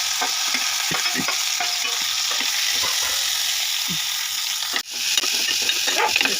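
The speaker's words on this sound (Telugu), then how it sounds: "బాగా బ్రౌన్ కలర్ వచ్చిన తర్వాత కొంచెం ఉల్లిపాయ పచ్చిమిర్చి" Chopped onion and green chilli fry in a pan for a leafy chana dal curry, a loud continuous sizzle with repeated spatula scrapes and stirring knocks, close and without talk.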